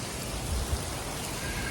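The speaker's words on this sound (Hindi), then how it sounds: "तो यहाँ देखिए कितनी प्यारी बारिश हो रही है" Steady rain pours down outdoors in an Indian city, a dense continuous hiss with a few heavier low thuds, loud and close, with no voices over it.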